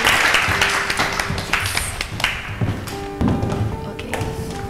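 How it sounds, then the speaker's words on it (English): An audience claps for a departing contestant at the close of a reality show episode, steady applause with sharp taps and thuds mixed in, running throughout at fairly close range. "Let's all give a round of applause for Ange."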